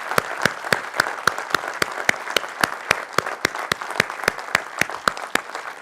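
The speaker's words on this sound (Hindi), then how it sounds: "ओ इनके लिए जोरदार ताली।" Loud, rhythmic applause for the Sapphire Masters at a business felicitation ceremony, crowd clapping in a strong, evenly spaced beat, with sharp regular claps standing out over a bed of general clapping.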